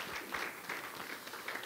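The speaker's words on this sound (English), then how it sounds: "Please give Him a round of applause." A small gathering gives brief applause after a prayer at a religious service, a faint, soft patter of clapping with a few distinct louder claps and no voices.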